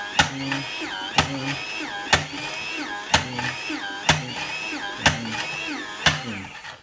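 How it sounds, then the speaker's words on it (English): A slicer cuts a block of cheese with a whirring mechanical hum broken by about seven sharp, evenly spaced clacks, roughly one each second. "I get my block cheese like this and I put it on my little slicer."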